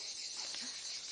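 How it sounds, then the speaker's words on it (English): Crickets chirp as a film ambience bed, a faint, steady high shimmer with no pauses across the short stretch. "crickets, the sound of the room."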